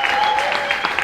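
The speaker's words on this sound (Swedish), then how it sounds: "En stor varm applåd till Tusse." An audience applauds an award winner at a youth role-model prize ceremony, a short burst of dense, steady clapping that fills the whole moment.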